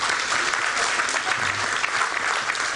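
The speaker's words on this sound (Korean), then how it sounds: "우리 박수 한번 보내주십시오." A church congregation applauding during a Korean sermon honoring mothers, dense continuous clapping that stays at an even, moderate level for the whole stretch with no talk over it.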